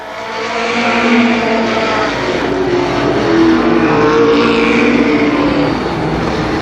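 Race cars roar around the oval at Columbus Motor Speedway in 1991, a loud, sustained blend of several engines holding high revs as the pack passes close by, rising and falling slightly in pitch.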